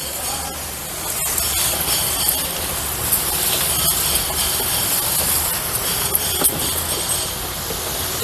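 A hand sprayer mists a cow urine solution over terrace garden plants in a steady, close hiss with small clicks and bumps.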